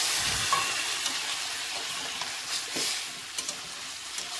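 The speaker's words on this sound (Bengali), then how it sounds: "এবার আমি গরম জল করে রেখেছিলাম, পরিমাণ মতো জল দিয়ে দেবো।" Hot water hitting a pan of frying potato curry makes a steady close hiss and sizzle, with light stirring scrapes and no talk.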